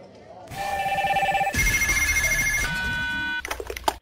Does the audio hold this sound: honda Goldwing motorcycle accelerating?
no